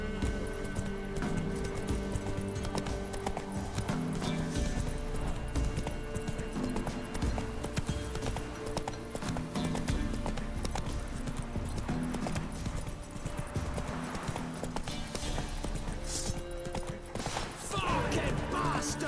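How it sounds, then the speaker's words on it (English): A horse's hooves clip-clop in a steady rhythm during gameplay of The Witcher 3, with occasional clinks and background game sounds mixed beneath. "Whoa there, Roach"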